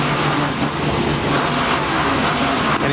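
Kurt Busch's No. 97 NASCAR race car with a stripped transmission runs at the 2004 Pennsylvania 500, its engine droning loud and continuous amid the racetrack roar.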